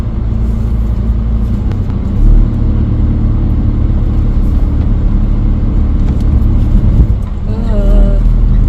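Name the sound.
campervan driving and juddering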